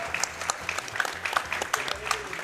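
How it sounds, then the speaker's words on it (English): Applause from the audience at the ESA Summer 2022 speedrun marathon, cheering on the final Mario Kart DS race. Quick rhythmic clapping comes in repeated bursts under a voice and a low musical hum. "let's hear a big clapping for Abel, please, for the final race"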